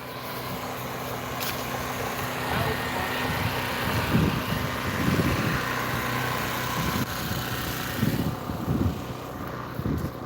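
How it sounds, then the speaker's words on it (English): Generator running steadily in a rocket test bunker, a continuous engine drone with a low rumbling pulse that swells and recedes, loud and close. "This is our generator."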